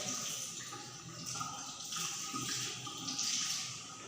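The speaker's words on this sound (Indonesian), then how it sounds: "lalu bilas dengan air mengalir" Water runs steadily from a tap while hands are rinsed beneath it, the flow shifting slightly in tone, close and continuous.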